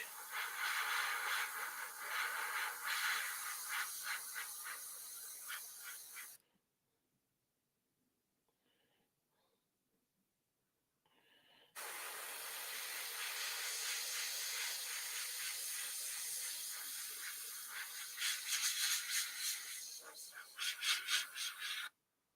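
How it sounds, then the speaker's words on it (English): An air compressor runs nearby with a loud, steady hiss and rattle, cuts out for several seconds, then starts up again and keeps running. "Fucking air compressor, shut up."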